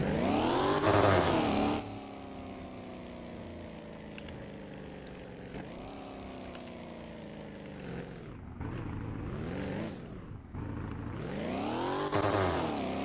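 Ford Mustang engine in the Roblox game Fix It Up, a loud, steady drone with harmonic tones that rise and fall across several revs, dipping sharply near the end before climbing again.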